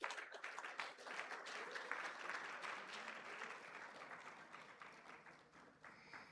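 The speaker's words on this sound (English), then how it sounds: "One more big round of applause." Sustained applause from an audience at the JTA Golden Torch Awards 2026 ceremony, a dense wash of many hands clapping steadily at moderate loudness for several seconds and easing slightly toward the end.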